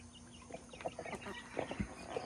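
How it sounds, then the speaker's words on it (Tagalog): Soft, faint clucking from chickens and a chick nearby, scattered short calls over a quiet outdoor background. "nagpakain po ako ng aking mga alagang manok at saka yung sisiw"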